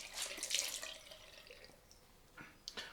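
Cold water runs from a tap into a sink for a post-shave rinse, a steady close hiss that fades midway, followed by a few brief splashes and drips.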